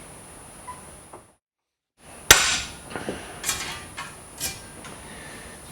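A hammer strikes sheet metal being shaped into an odd form, one sharp loud blow followed by several lighter taps spaced unevenly, after a brief silence.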